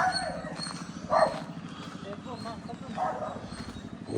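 Dogs bark a few times, fairly close, along an evening road near an international highway in Bylakuppe, under ongoing chatter from people walking and faint footsteps.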